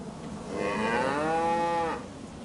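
A young Holstein calf mooing in Farming Simulator 25, a single drawn-out moo lasting over a second, clear and fairly close over a quiet farmyard background.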